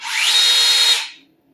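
A weak hammer drill runs at its highest speed in one short burst, a thin, high whine that rises briefly as it spins up, holds steady, then cuts off and fades quickly.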